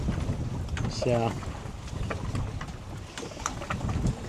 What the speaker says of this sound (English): I know it's a little windy